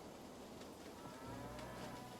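Cattle moo in the Railway Empire video game, a single drawn-out low call that sits quietly alone at a distance.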